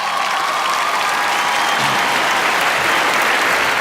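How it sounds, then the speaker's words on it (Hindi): A large crowd at a Bollywood awards show in 2023 gives loud, continuous applause, a dense wash of clapping with a faint cheer mixed in, steady throughout. "Okay, finally, तालियां for आलिया।"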